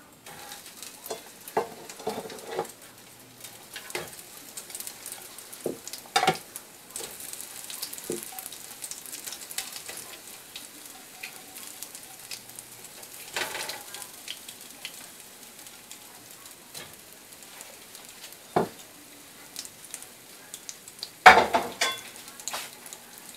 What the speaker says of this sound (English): I have a pan with some oil heating on medium high, and to this we're going to add our tuna patties or tuna cakes.